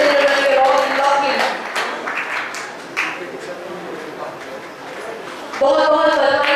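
Audience applause at a stage event, steady clapping that fades under a host speaking into a microphone, then swells again near the end.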